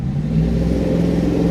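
A car revving its engine while doing donuts in a parking lot, a loud sustained mid-pitched engine roar close by.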